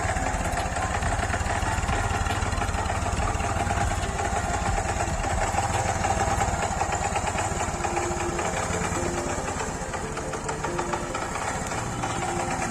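A motorcycle revived after sitting unused for seven or eight years idles steadily, a loud continuous engine chug with knocking vibration throughout and no talk.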